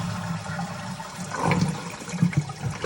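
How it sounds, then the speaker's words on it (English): A Geberit Sigma concealed toilet cistern releases a full flush, a close, loud rush and gurgle of water swelling over a few seconds, heard alone without voices. "So we're going to flush the toilet on full flush just to release all the water out of the unit."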